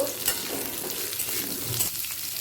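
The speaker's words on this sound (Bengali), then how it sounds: "দিয়ে দেব কেটে রাখা আলু আলুটাকে তেলের সাথে ভালো করে মিশিয়ে নেব" Cut potatoes being stirred and fried in hot oil in a home kitchen, a steady close sizzle with scraping stir strokes throughout and no talking.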